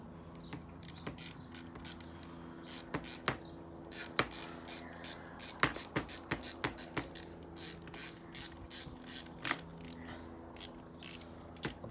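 A ratchet with an 8mm socket draws in bolts on a GM alternator assembly, quick close clicking strokes in uneven bursts over a faint background hum.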